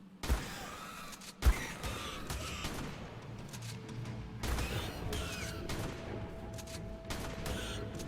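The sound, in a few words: pump-action shotgun firing in the video game ARK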